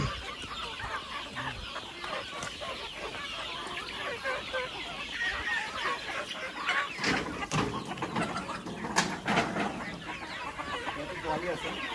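Kadaknath, Rhode Island Red and local chickens clucking on a farm, a busy chorus of hens with occasional louder calls, while people talk over them.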